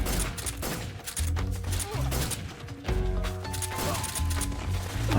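A gunshot headshot in Metal Gear Solid 3, sharp shots popping among busy game music and effects, with a voice talking over them.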